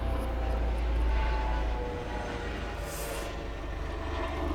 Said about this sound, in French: excusez-moi, il y a l'hélicoptère